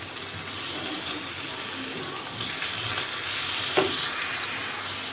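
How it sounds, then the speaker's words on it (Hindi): Garlic paste sautéing in a pan with onions while cooking chicken wings karahi, a steady broadband sizzle and fry hiss running throughout, with a brief scrape of stirring near the end and no talk. "इसमें हम लहसुन का पेस्ट ऐड करेंगे और लहसुन को सौते करेंगे"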